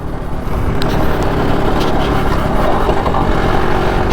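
BSA Bantam motorcycle out on a ride, its small engine buzzing loudly and continuously close by, with a steady rasping tone and slight revving fluctuations.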